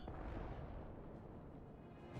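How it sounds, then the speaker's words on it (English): Cannon fire in the video game We. The Revolution: a dense, continuous roar of booming artillery that fills the low end for the whole span, steady and heavy with no pauses. "Oh, they have cannons."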